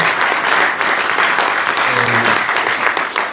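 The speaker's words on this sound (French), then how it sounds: "je crois qu'on peut vraiment vous applaudir pour tout ce que vous avez fait depuis 30 ans" A conference audience applauds a retiring worker after thirty years of service, continuous dense clapping holding steady at close range, with a brief murmur of voices partway through.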